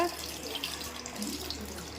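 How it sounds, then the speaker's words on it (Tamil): Tamarind water pours steadily into a pot of sambar, a continuous splashing trickle like a running tap, close by and moderately loud. "பாருங்க புளி தண்ணி ஊற்றலாங்க"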